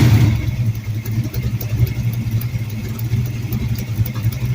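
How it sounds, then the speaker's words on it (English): A car engine idles on a run stand fitted with a windowed intake manifold, giving a steady, loud, close low rumble with an even pulsing rhythm and no talk. "that pulse right there is all cylinders pulling idle fuel"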